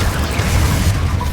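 A Confringo fire spell explodes in Hogwarts Legacy, a loud, steady rumbling burst with a crackling, roaring body, brief and close.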